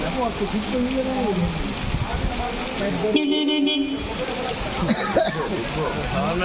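A car horn blares briefly in the middle of busy Dhaka street noise after rain, with people talking over the traffic before and after.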